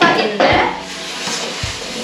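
A spoon stirs chopped, previously frozen vegetables and spices in a hot pan for a non-traditional curry. Close, loud scraping and clattering against the pan rise over a soft sizzle.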